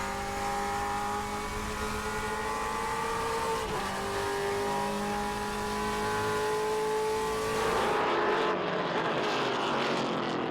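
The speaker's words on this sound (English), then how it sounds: "On board with Eric Caton. Listen to that" A TA2 series race car engine heard onboard at World Wide Technology Raceway, a loud continuous high-revving roar with the pitch dipping and climbing through gear changes, then swelling harder near the end.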